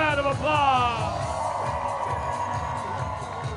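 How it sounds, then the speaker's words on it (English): Crowd at a high school baseball field during a Savannah Bananas and Texas Tailgaters game cheers and whoops loudly, a dense roar of shouts and voices sustained throughout with a rising yell at the start. "Give yourselves a round of applause."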